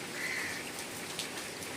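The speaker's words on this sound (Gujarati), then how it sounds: "અને વરસાદ ચાલુ છે" Steady, even rain falls outdoors near a parked Activa scooter, a dense continuous hiss with no voices.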